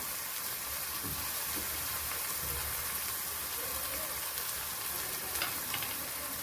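Bay leaf and fenugreek leaves dropped into a hot pan of garlic for a Marathi matar methi kheema, giving a steady, close sizzle and frying hiss throughout with faint stirring.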